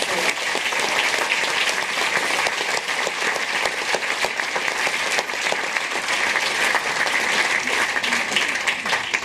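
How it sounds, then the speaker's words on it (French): Loud, sustained applause from a large audience at a film festival closing ceremony, dense and even clapping that continues without a break. "On peut applaudir tous ces personnes."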